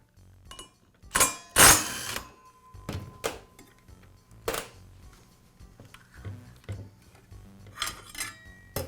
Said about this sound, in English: I'll begin by removing the blade from the saw.